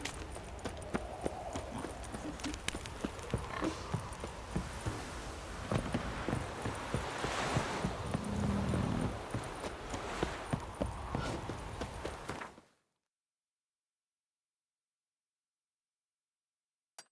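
Steady clip-clop of horse hooves walking in The Witcher 3, a continuous even rhythm at moderate distance that cuts off abruptly near the end, followed by silence.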